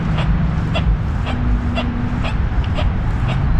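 A metal detector with a small coil gives a series of short, squeaky chirping tones, about ten in a row at a fairly even pace, over a steady low rumble outdoors.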